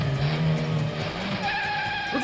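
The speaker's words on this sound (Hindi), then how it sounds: "तुम गाड़ी चलाओ जल्दी" A car speeds away with a loud screech of skidding tires and a rising engine roar, close and intense throughout the short burst, during a tense kidnapping scene in a crime drama.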